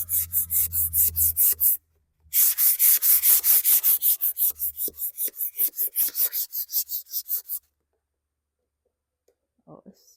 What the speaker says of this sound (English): since you can feel that these are raised, I'm just take some 220 sandpaper